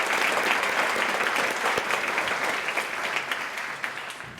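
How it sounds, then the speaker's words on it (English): Audience applause at a library-hosted One Book One Broomfield author event, a steady dense wash of many hands clapping that holds strong throughout and tapers slightly near the end. "let's give them a round of applause"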